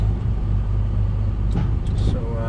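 Pickup truck fitted with a snow plow, engine idling inside a shop with a steady low rumble, plus a few brief clanks and a voice over the running motor.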